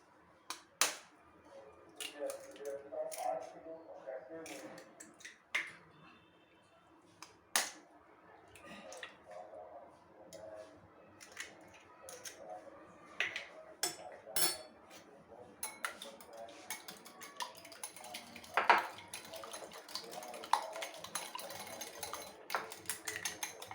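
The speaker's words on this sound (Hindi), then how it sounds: "और अब हम अंडे को अच्छे से फेंट लेते हैं" Egg being whisked in a bowl with a pinch of salt and a little red chili, giving a steady run of light clicking, tapping strikes against the bowl, fairly close and moderately quiet, with no talk.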